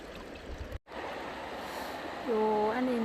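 A white waterfall flowing outdoors in spring, heard as a steady broadband rush of water that continues throughout, briefly cut by a short dropout, with faint tonal whistling sounds near the end.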